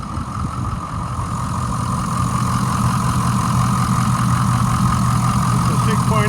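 2006 Ford E-450 Blue Bird Handy Bus with a 6.0 engine idling, a loud, close, steady diesel rumble and hum that continues without a break.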